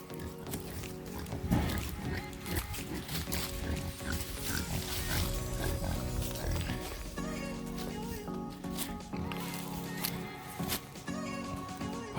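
Hungry mother pigs in a pen grunting and squealing continuously and loudly, a dense overlapping chorus of snorts and oinks lasting throughout.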